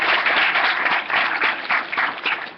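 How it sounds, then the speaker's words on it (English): Audience applause for a presenter at a June 2013 startup pitch event, a dense steady clapping with a few swells and dips across a couple of seconds, no voices over it. "So round of applause for Max."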